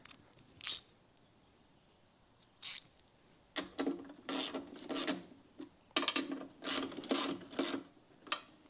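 Screws are driven into the metal body of a Chamberlain garage door opener motor in short, scraping bursts. A few isolated bursts come first, then a denser cluster of quick grinding turns close by.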